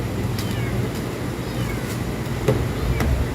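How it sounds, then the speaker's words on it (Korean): A kitten about one to two months old mews at Ganggu harbor in Yeongdeok, several short, thin calls scattered over a busy outdoor background. "새끼냥이다 어?"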